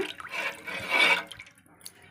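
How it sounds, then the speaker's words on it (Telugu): Water poured into a cooking pot for bagara rice, a short, soft splashing pour with a few quiet drips trailing off. "దానికి ఒక లీటర్ పోస్తున్నానండి"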